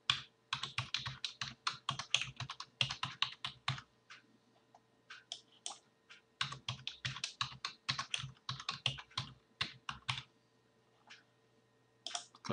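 Password keyed in on a computer keyboard while installing point-of-sale software: rapid bursts of close, crisp key clicks in uneven runs, with two brief pauses between them and no talking.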